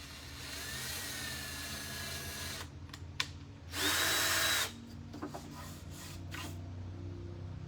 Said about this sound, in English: There's no need to drill it fast